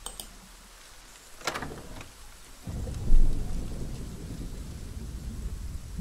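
Rain falls steadily in The Pillars of the Earth game, and a sharp crack of thunder near the middle gives way to a louder, heavier downpour that rumbles on without any talk.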